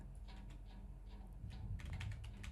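Quiet rapid typing on a computer keyboard, a steady patter of key clicks that grows slightly louder and denser toward the end, with no voices.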